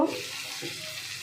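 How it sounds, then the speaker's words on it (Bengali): Onions dropped into hot spiced oil for paneer biryani, a sudden close burst of sizzling that settles into a steady hiss for about a second. "এর মধ্যে পেঁয়াজগুলো দিয়ে দেব। পেঁয়াজগুলো ভাজা ভাজা হবে।"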